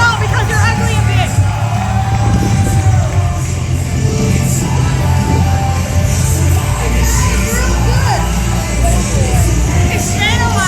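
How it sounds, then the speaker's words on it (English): Live pro wrestling crowd at an ACW Extreme Impact event in Dayton, Ohio, cheering and yelling steadily and loudly throughout, with scattered shouts and whoops rising from a dense, continuous roar. "You can cheer!"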